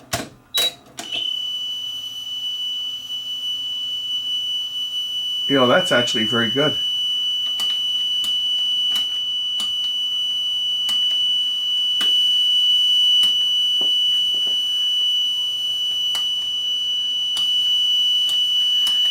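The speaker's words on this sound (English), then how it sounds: "let's just turn the tape over and put the 3 kilohertz side on. Just listen to this for flutter" A steady 3 kHz test tone plays back from the tape on an Aurex (Toshiba) PC-G8AD cassette deck with a faulty fast-forward key, sustained and even for the whole stretch, with a short burst of clatter near the start and someone speaking briefly over it.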